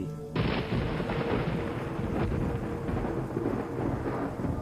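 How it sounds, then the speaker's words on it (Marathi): A sudden loud thunderclap crashes in and rolls on as a sustained, rumbling roar, heavy and close, with no voices. "तेव्हाच वीज कडाडली"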